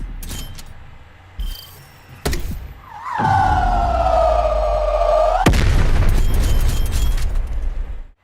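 A shot fired in the video game Black Ops Cold War: sharp clicks and thuds, then a loud sustained tonal whine lasting about two seconds, cut off by a burst that fades into noisy rumble.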